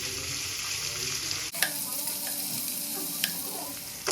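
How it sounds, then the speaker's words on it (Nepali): Chicken gizzards sizzle in hot oil while being stirred in a pan, a close, steady hiss with light scraping knocks from the spoon, a sudden shift in texture midway. "पाङ्ग्रा चाहिँ मजाले फ्राई हुँदैछ"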